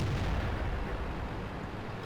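Tank cannon fire in World of Tanks during a Conqueror heavy tank match, a deep booming blast with low rumble that rolls on for about two seconds, loud and without speech.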